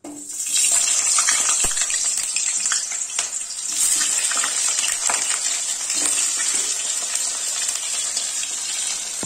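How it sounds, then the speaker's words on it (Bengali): Potatoes hit hot oil in a pan for a vegetarian cabbage curry, setting off a loud, steady, close sizzle with crackling pops throughout and no speech. "তেলটা গরম হয়ে গেছে, এবার আমি এই আলুগুলো দিয়ে দেবো।"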